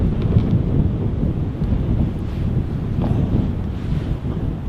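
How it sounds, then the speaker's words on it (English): Strong wind buffets an outdoor microphone at an airport planespotting spot, a loud, constant low rumble and roar that carries on without a break and with no voices. "Why is it every time I record, it just gets really windy all of a sudden?"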